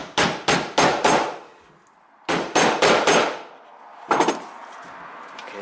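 Hammer blows on a knife wedged into the housing of a BMW electric engine coolant pump being disassembled: two bursts of four sharp, close metallic strikes each, separated by a pause, then a softer clatter.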